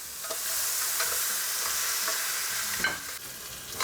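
Goat meat browning in a hot pan, a steady loud sizzle and frying hiss with occasional stirring scrapes, close up and continuous with no one speaking.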